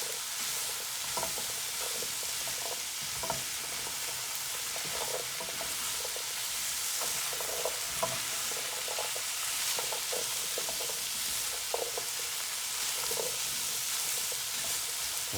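Shrimp and zucchini sautéing in a pan, a steady broad sizzle filling the whole stretch, with soft scattered clicks and scrapes from stirring rising faintly above the frying hiss.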